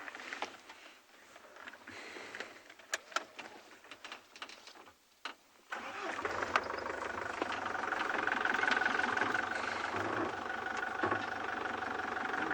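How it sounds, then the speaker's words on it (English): A safari game-drive vehicle engine idles quietly, then revs up into a loud, steady groaning drone with a whining tone that holds for several seconds. "the great groaning, whining, squeaking, belching noise that is this vehicle"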